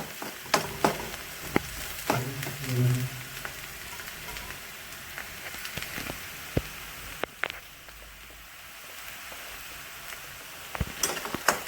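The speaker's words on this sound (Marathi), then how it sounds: "छान असं हलवून घ्यायचं" Yellow potato bhaji fries in a pan while a spatula stirs it, producing a crackling sizzle with sharp scraping knocks and clinks at irregular intervals, close by; the sizzle softens midway before the stirring resumes.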